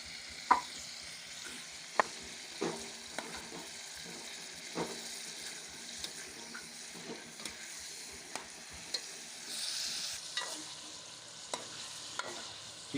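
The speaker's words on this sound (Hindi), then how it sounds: "चिकन को अच्छी तरह से फ्राई कर लेंगे।" Chicken pieces fry in a pan while a spoon stirs them, a soft continuous sizzle broken by a series of sharp scraping and clinking stirs at irregular intervals, close and moderately quiet.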